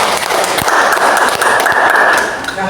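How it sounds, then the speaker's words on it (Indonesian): A class of junior high students claps for a classmate in a lesson, a dense, loud patter of many hands in a room, brief and continuous with a few sharper slaps. "tepuk tangan"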